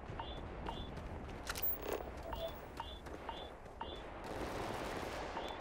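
Repeated gunshots in the video game Starfield, a rapid series of sharp reports at a fairly steady rhythm over a dense background rumble, moderately loud and close, with no talking.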